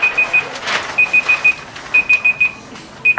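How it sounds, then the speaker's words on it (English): Electronic alarm beeping in quick bursts of three or four high-pitched tones with short pauses between, loud and close in a quiet room. "I hate your alarm."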